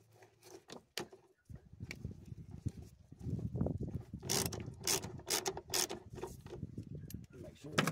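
A screw is driven with a Torx 30 star bit, making close mechanical clicks and ratcheting turns that start sparse, then grow into a busier run of clicking and grinding bursts.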